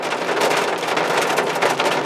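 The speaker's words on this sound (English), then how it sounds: "it's not just raining, it's hailing" Heavy rain mixed with hail pelts down outside a parked truck, a dense, loud, unbroken hiss and patter with no pauses.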